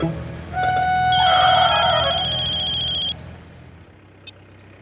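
An electronic mobile phone ringtone chimes in a steady, bright tone for about two seconds, then cuts off, leaving quiet room noise and a small click.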